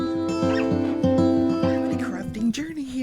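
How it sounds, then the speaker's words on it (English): Dogs on a walk bark and yip outdoors in a rapid, repeated rhythm, loud and close, with whiny yelps mixed in while a voice talks at the same time. "I'm walking dogs and trying to talk at the same time."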